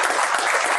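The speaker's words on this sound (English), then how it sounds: "Give them a round of applause." Audience at an annual luncheon award ceremony claps loudly and continuously, a dense, even wash of applause filling the whole short moment with no talking.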